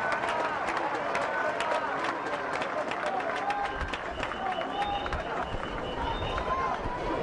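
A crowd at a national swimming championship applauds and cheers for women swimmers after a race, with dense clapping and shouts filling an echoing natatorium throughout.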